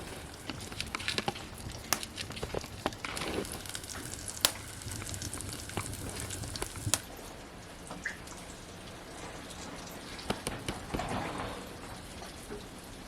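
Seven semolina-coated pieces of Khadas fish frying on a hot tava, a steady crackling sizzle with irregular pops and spatters, close and continuous.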